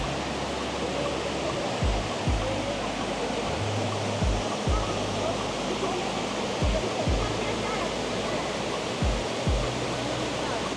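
Kuang Si waterfall in Luang Prabang, Laos roars as a dense, steady rush of falling water, loud and close, with occasional low thumps from wind buffeting the microphone.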